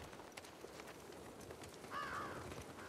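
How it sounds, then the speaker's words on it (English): A single crow gives a faint caw in The Last of Us Part II, heard briefly and at a distance over a quiet, hissy outdoor ambience. "Crows. I hear crows."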